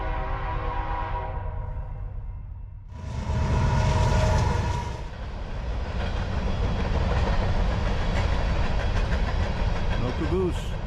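A freight train rolls past without a caboose at a camping spot, its broad rumble swelling after a quieter start and holding steady and close for several seconds, with a brief squeal near the end.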